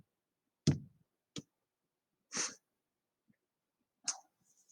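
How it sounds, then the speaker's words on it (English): A person with a runny nose sniffs several times in short, sharp bursts, nearby and otherwise quiet, with gaps of silence between them. "Sorry if you heard me sniff."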